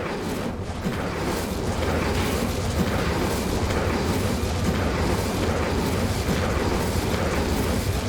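The Incendio fire spell in Hogwarts Legacy makes a continuous, loud, dense roaring blast of fiery rumble and crackle that holds steady for the whole stretch, with no voices over it.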